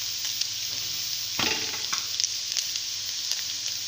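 Carrots frying in a pan of oil with a bright continuous sizzle, a burst of louder crackling as they land, then scattered stirring clicks.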